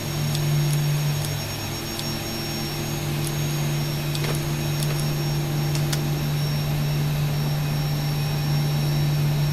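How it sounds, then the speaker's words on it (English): Engines on a Boeing 737-600 spooling up in the X-Plane 12 flight simulator, a steady whining jet roar with a strong low hum holding evenly throughout and faint clicks over it. "I could start on engines number 1 and 2"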